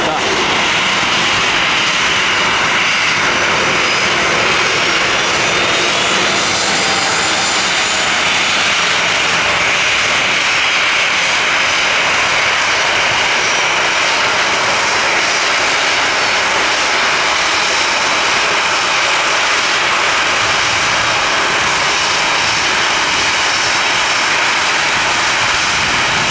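Steady broadband roar of an inbound airliner, International Flight 701, its jet engines holding a constant level for the whole stretch, with voices talking faintly under the noise.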